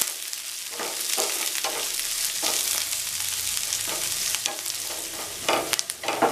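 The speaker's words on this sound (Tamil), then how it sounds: "கட் பண்ணி வச்சிருக்கிற வெங்காயம், கருவேப்பிலை இதெல்லாம் சேர்த்து நல்லா வதக்கிக்கலாம்." Chopped onions and curry leaves sautéing in a pan, with a steady close sizzle broken by repeated scraping stirs, with no talking.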